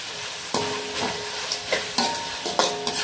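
Vegetables sauté in oil in a pan, a steady soft sizzle broken by several sharp scraping stirs at regular intervals, close and with no voices.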